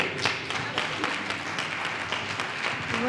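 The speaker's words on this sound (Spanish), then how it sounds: "recibámoslo con un aplauso" Audience applause at an evening gathering, with scattered individual claps at moderate distance, fairly quiet and uneven, rising slightly near the end.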